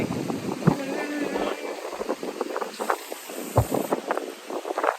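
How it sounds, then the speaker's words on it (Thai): Strong cold wind buffets the microphone at the Pha Mo E-Daeng cliff viewpoint, a steady rushing roar with gusty bursts throughout, loud and close. "ลมเย็นมาก"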